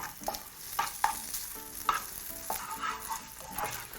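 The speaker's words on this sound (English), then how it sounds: "So into a hot pan, proceed to add your bacon." Bacon browns in a hot pan for pea and bacon pasta, a close crackling sizzle with irregular scraping and tapping as it's moved around.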